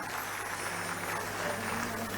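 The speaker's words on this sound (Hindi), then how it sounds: "एक बार जोरदार तालियां केशव भाई के लिए बजा दीजिएगा" Audience applause for Keshav Bhai at a Kumar Vishwas speaking event with CM Yogi present: a short, steady burst of clapping from a crowd, moderately loud, with no talking over it.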